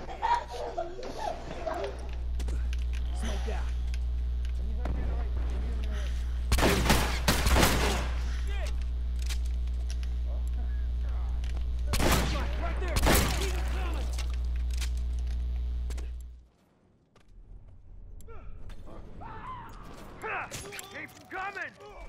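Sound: gunfire in the video game The Last of Us Remastered

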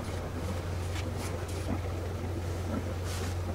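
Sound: yacht motoring slowly astern

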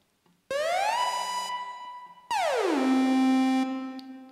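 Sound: sawtooth synth with high portamento slide, siren-like

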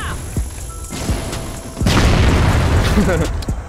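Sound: grenade explosion in a video game

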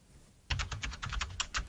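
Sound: AI-generated keyboard typing sound effect

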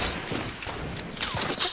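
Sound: gunfire from guns in a video game

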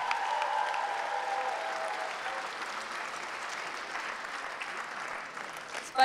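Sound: audience applauding at KVN concert

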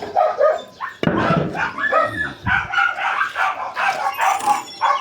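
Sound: dogs barking at feeding time

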